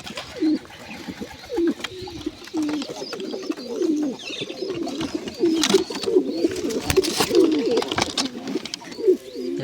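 Red pigeons coo repeatedly at close range, making soft throaty rolling calls in uneven bursts, with a few rustles and scrapes in between.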